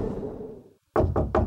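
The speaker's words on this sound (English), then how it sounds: "Never knocked on my own door before." Three firm, evenly spaced knocks on a wooden apartment door, close and loud, following a fading stretch of room sound and a brief moment of silence.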